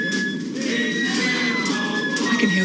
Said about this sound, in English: I can hear wood pigeons